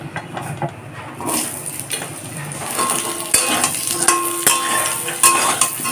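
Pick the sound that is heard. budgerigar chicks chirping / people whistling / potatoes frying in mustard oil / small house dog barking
potatoes frying in mustard oil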